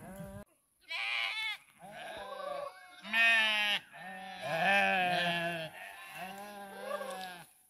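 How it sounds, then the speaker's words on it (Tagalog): A flock of thirsty sheep bleating on a farm, several loud, close wavering bleats overlapping one after another in quick succession with short gaps, no talking. "Nauuhaw po yung mga tupa natin oh."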